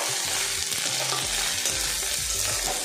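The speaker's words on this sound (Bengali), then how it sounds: "আদা রসুন পেঁয়াজটা আমি ভালো করে ফ্রাই করে নেব।" Ginger-garlic paste and onion fry steadily in a hot pan, a constant close sizzle overlaid by repeated low scraping stirs, with no voices.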